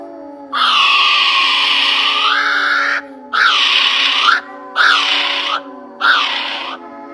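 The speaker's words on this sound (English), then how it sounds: "Kiwi bird." A kiwi bird gives four long, harsh, shrill calls in a row, each lasting about a second or more and separated by short gaps, loud and close.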